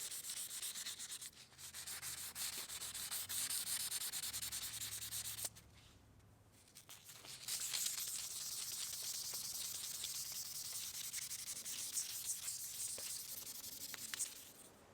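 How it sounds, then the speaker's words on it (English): Fine sandpaper rubs back and forth in a steady scratchy rhythm, pausing briefly midway before resuming, close and fairly quiet. "I think sanding is the way to go"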